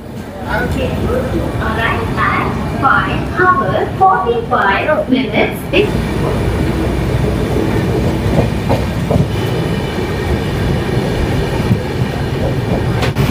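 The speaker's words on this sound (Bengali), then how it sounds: "আমাদের ট্রেন ছেড়ে দিল কটক জংশন থেকে।" The 12837 Howrah–Puri Superfast Express pulls out of Cuttack Junction with a steady, loud rumble and rhythmic wheel clatter, while indistinct voices mingle in during the first few seconds.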